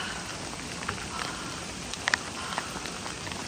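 Hail and rain falling in Los Angeles, a steady close hiss of downpour with a few scattered sharper hits of ice landing, no voices.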